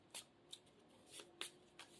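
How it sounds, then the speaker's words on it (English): Marvel Champions playing cards are shuffled into the encounter deck by hand, producing a handful of quiet riffling bursts and soft card flicks, close and faint. "we'll shuffle these into the encounter deck"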